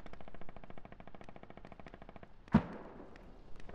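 Stryker armored vehicle returning fire in a military video game: a steady, rapid stream of automatic gunfire runs throughout, broken by one sharp, louder blast partway through.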